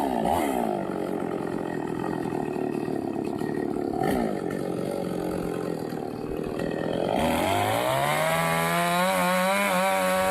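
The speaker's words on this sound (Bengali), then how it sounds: "গাছটা এবার কাটবে এই মেশিনটা দিয়ে" A cutting machine saws through a large, tall siris tree growing behind a house, its loud engine roaring steadily and rising and falling in pitch as the blade bites, with no talking.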